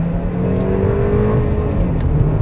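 A Mercedes-Benz GLB with a nine-speed automatic under full-throttle acceleration from an awkward middle speed, giving a loud, steady engine drone with a whining tone that climbs and shifts as the transmission hunts for a gear.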